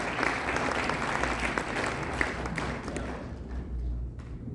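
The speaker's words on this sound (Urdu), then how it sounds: "تالی بجائیے اور آپ کی بھرپور تالیوں میں" An audience at a mushaira poetry recital applauds steadily. Many hands clap in a continuous, moderately distant wash with a few sharper individual claps standing out.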